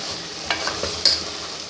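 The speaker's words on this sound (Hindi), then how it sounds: "गोश्त की बहुत अच्छी तरह से भुनाई करेंगे।" Meat frying in a pot while being stirred, a soft steady sizzle close by with a couple of sharp scraping clinks of the spoon against the pot.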